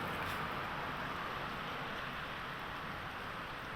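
Steady rain falls heavily and evenly on an outdoor street during a wet Saturday morning, a constant loud hiss with no breaks.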